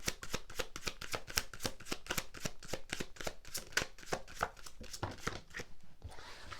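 A deck of cards is riffled and shuffled, a quick run of sharp crisp snaps repeating steadily for about six seconds, close and clear, then a softer rustle as a single energy card is drawn.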